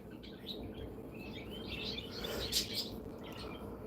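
Birds outside chirp and tweet in scattered, bright calls through a faint steady background, with a few louder overlapping notes near the end and no talking.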